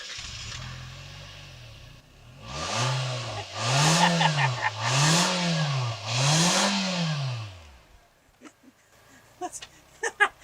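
A small SUV engine revs up hard four times in quick succession, each rising and falling exhaust roar close and loud, then idles down into quiet clicks.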